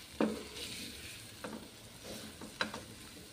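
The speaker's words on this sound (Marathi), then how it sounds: "पाणी अजिबात यामध्ये न घालता हे सगळे मसाले तेलात व्यवस्थित परतून घ्यायचे आहेत।" Spices are sautéed in oil with no water for an aloo matar masala, giving a faint, close sizzle broken by a few soft spatula scrapes.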